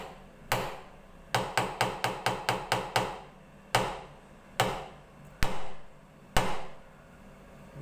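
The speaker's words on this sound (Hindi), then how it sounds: "तो ये बोतल से हम लोग आवाज़ करेंगे" Sharp tapping knocks on a bottle ring out as a quick rapid burst of about eight strikes followed by slower isolated taps, crisp and close with no talking.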